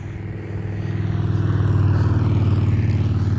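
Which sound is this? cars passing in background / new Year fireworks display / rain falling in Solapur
cars passing in background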